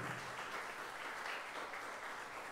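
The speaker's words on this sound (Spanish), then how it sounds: "Démosle un aplauso al Señor Jesucristo." Dense, steady applause from a church congregation fills the space evenly from start to finish, loud and sustained with no speech over it.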